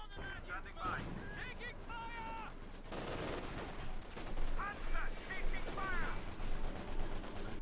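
Bren gun fire from a war video game tournament match crackles in dense rapid bursts throughout, with game sound effects and shouting layered over it at moderate volume.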